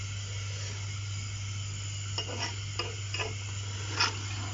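A spoon scrapes and knocks against a pot of aloo gosht in a few irregular strokes, faint, over a low steady hum with a soft sizzle.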